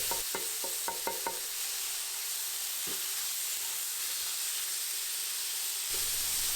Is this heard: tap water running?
no